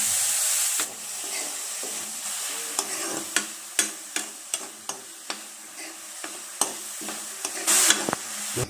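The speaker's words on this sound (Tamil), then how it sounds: "வெங்காயம் நல்லா பொன்னிறமாக வதங்கட்டுங்க" Onion, garlic and chillies sauté in a pan with a steady hiss of sizzling oil, punctuated by a dozen or so sharp clacks of a spoon stirring and scraping, close and loud, with no talking.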